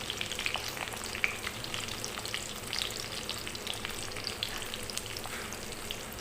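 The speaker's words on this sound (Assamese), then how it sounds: "তাৰপিছতে দিলোঁ কাটি থোৱা পিঁয়াজখিনি।" Chopped onions fry in a pan for a chicken manchurian dish, giving a steady close crackling sizzle with scattered pops and no talking.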